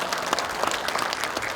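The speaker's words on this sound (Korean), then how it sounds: "박수 한번 주시죠." An audience at a county town-hall meeting in an arts hall applauds, a dense, even patter of many hands clapping at moderate distance, with no voices above it.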